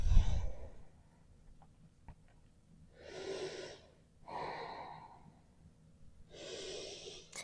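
Slow, audible exhalations during a yoga flow, three long breaths out separated by quiet pauses, close and fairly soft, with no talking.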